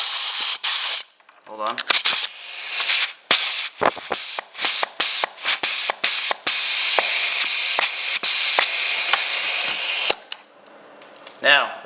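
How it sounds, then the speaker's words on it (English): Compressed air from a shop air compressor hisses through a pneumatic valve in repeated bursts and a broad sustained hiss, with sharp clicks and short gaps as flow switches between two ports; a voice speaks briefly. "I'm getting my air compressor. You're gonna hear it switch between the 2."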